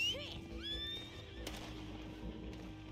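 A horse whinnies in the Red Dead Online video game, a loud rising neigh at the start with a second fainter whinny just after, over steady game ambience and low background noise.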